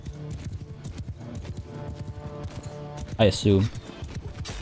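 Horse hooves clip-clopping in the video game Mount & Blade II: Bannerlord, a steady fast rhythm of hoof strikes running under busy battle noise, with someone briefly talking near the end.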